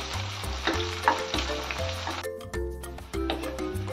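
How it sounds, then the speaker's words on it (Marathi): Tomatoes and onion sauté in a pan for a brinjal bharit, a soft continuous sizzle with occasional stirring, heard under steady background music. "कांदा थोडा परतल्यानंतर आता यामध्ये संपूर्ण टोमॅटो टाकून घ्यायचं। टोमॅटो पण चांगलं मऊ शिजवून घ्यायचं आहे यामध्ये।"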